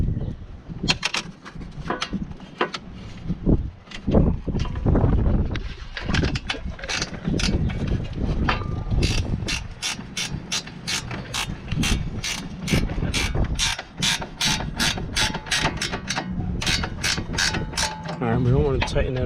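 Repeated ratchet clicks from a hand wrench snugging a bolt on a 2010 BMW 550i M-Sport during an aFe cold-air intake install, fast bursts of close metallic clicking, steady and rhythmic through the latter half.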